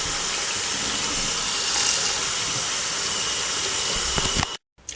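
Water from a tap pours steadily into a small pot, meant for boiling chitterlings, in a loud, close, continuous hissing rush that cuts off abruptly near the end.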